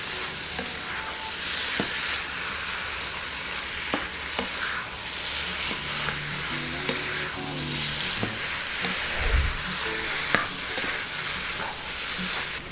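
Shrimp sizzle steadily in a pan with coconut and spices for an Indian shrimp sukka, with a constant close frying hiss and occasional stirring clatter.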